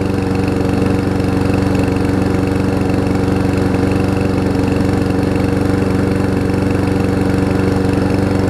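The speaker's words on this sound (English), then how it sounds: "the mower is starting to warm up" A Lawn Boy push mower engine runs steadily as it warms up, a loud, close, continuous mid-pitched drone with an even rapid pulse and no talking.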